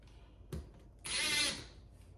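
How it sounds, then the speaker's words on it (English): A power drill briefly whirs as it drives screws into a small wood scrap, with a short knock followed by a half-second burst of motor whine, fairly faint and with no talk. "start 2 screws in it"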